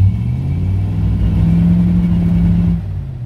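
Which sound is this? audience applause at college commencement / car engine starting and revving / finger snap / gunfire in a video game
car engine starting and revving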